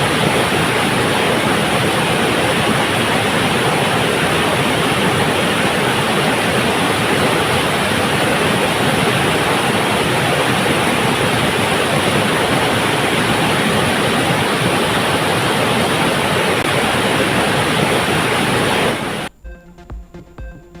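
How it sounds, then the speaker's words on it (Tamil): A river in flash flood after heavy rain near Bodi in Theni, rushing water roaring loudly and continuously as a dense broadband wash, cutting off abruptly near the end. "போடி அருகே பெய்த கனமழையால் கொட்டக்குடி கல்லாறு பகுதிகளில் காட்டாற்று வெள்ளப்பெருக்கு"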